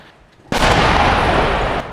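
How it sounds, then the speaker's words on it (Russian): A single loud artillery blast in a firefight between the Syrian army and militants in Jobar, a sudden sharp boom followed by a heavy, sustained roar that decays slowly, close and loud. "Сейчас происходит артиллерийская перестрелка сирийской армии и боевиков."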